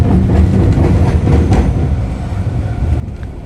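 Train wheels rumble loudly across a railway diamond crossing on a Shikoku line, where rails cross a road at grade. The close, heavy, rattling roll carries faint rhythmic knocks and eases off in the last half-second.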